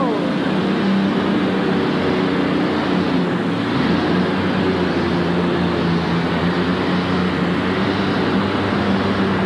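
The Alley Cat, L.G. Cooper's pulling tractor, roars steadily through a run at a 1989 truck and tractor pull in Kansas City, a loud continuous engine drone with a brief dip partway before resuming at full power.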